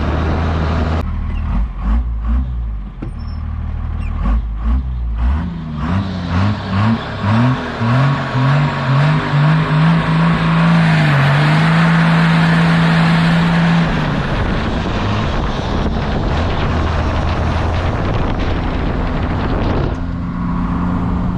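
A first-generation Cummins diesel in a cheap farm truck revs hard, its engine note climbing in rising steps before settling into a sustained loud roar, then dropping back to idle near the end, with no talking over it.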